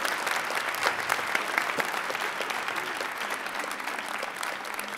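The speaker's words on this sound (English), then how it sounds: "Can we give another round of applause for that wonderful dance team?" A church congregation applauds a dance team at a Sunday service, a dense, steady wash of clapping from a sizable crowd that continues evenly without pause.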